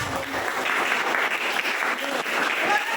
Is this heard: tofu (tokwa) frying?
no